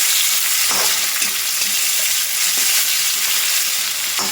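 Fried onion with tomato and capsicum sizzles loudly and steadily in a pan, with occasional stirring scrapes breaking through the constant hiss.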